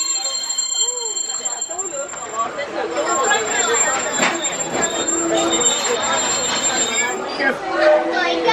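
A Magic Kingdom theme park train ride rumbles and clatters along with squealing wheels, while a voice speaks over a loudspeaker and people chatter in the background.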